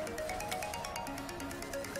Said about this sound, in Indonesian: Telepon lo tuh.